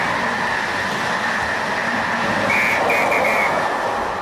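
Passenger train on the Berlin to Moscow route, heard from inside as a steady, loud rumble of wheels on rails, with a brief high metallic squeal rising partway through.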